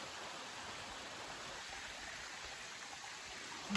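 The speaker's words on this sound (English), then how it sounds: "Reassuring to hear water and seawater." Water from a stream flows in a wilderness valley near the sea, heard as a soft, even rushing hiss throughout, faint and steady with no voices.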